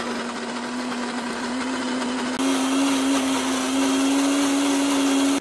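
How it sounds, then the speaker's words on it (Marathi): A kitchen mixer grinder blends a batter of moong, garlic, green chilli, ginger and water, giving a steady loud motor whine that shifts slightly in pitch partway through and then cuts off at the end. "त्यामध्ये नंतर थोडंसं पाणी ऍड केलं आणि मग काय मिक्सरला गरा गरा"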